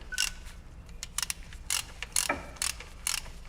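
A torque wrench tightens the guide bolts on a Renault AL4 automatic gearbox during reassembly, giving a run of close, crisp ratcheting clicks in short bursts with brief pauses between pulls.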